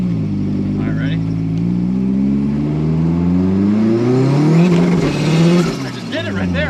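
A Toyota AW11 MR2 engine revs hard and loud through a rolling antilag flat shift from first to second, its pitch climbing steadily, dipping briefly at the shift, then surging again with crackling bursts near the end.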